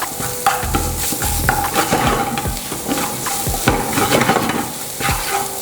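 Chili flakes, salt and browning onions are stirred in a sizzling pan with a spoon, and the spoon scrapes and clinks against the metal. Frying crackles steadily underneath, close and fairly loud, with no talking.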